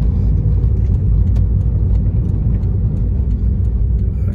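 Steady low rumble of cars passing on the Sibanceh toll road in Aceh near a rest area exit, a continuous close traffic drone with no distinct pass-bys and no talking.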